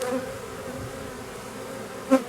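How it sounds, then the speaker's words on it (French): A first swarm of the season, with honeybees fanning at a small nucleus hive; a steady, moderate buzzing hum runs throughout, and a slightly louder bee passes close near the end. "Toutes ces abeilles qui battent leur appel."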